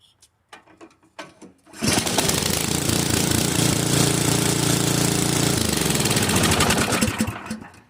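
Ariens Deluxe 24 snow blower on a warm day, a few faint clicks and pulls before the engine catches at once and runs loud and steady at close range for several seconds, then winds down near the end.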